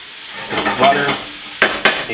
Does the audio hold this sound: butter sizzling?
yes